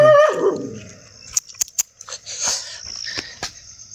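A pet dog at home lets out a brief whine at the start, followed by scattered clicks, taps and rustling movement nearby.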